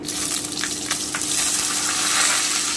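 Potatoes drop into hot oil with bay leaf, dried red chili and whole cumin, giving a steady, close sizzling hiss that builds slightly as they fry.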